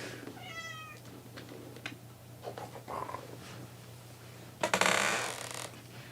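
A domestic cat gives a short rising meow near the start amid quiet room noise and a low hum, followed by soft rustles and thumps and a loud burst of rustling noise toward the end.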